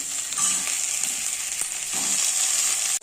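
Tomatoes sizzle hard in a hot pan over onions and ginger-garlic paste, a steady bright hiss with a few soft stirring scrapes and a sharp knock at the end.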